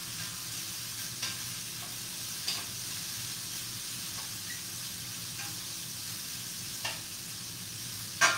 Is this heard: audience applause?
no